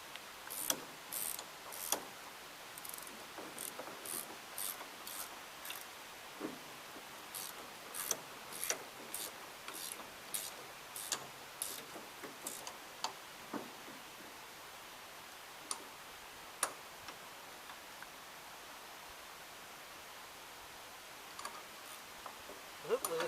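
Ratchet wrench clicking in short bursts while tightening bolts on a 67 424 Gravely front adapter, sharp ticks at varying pace, some quick runs and some spaced, fairly close with quiet room tone between.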